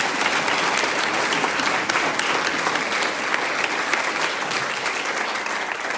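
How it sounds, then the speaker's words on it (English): An audience at a school board candidate forum gives a sustained, full round of applause, dense and even from start to finish with no talking over it. "if we could seriously give all the candidates a big round of applause."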